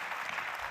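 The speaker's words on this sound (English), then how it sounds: "We'll make sure you get a round of applause properly as well." Audience applause at a design conference in Amsterdam, a steady, even burst of clapping from a crowd, fairly faint and brief, with no talk over it.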